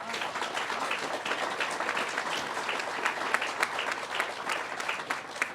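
Outdoor audience at a Bronx civic event clapping and cheering together, a steady, dense wash of applause with a few louder claps standing out, continuing throughout at moderate distance.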